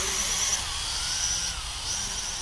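An FQ777 FQ02W mini drone lifts off and flies, its tiny motors giving a steady, loud high-pitched whine with a faint wavering tone throughout, heard up close with no talking.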